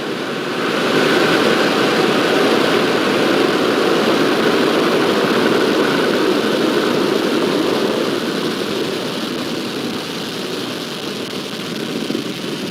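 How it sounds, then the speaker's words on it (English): A SpaceX Falcon 9 rocket ignites and lifts off on a Starlink launch, a broad continuous roar rising within the first second and holding steady and powerful, heard from a distance. "Ignition. And liftoff."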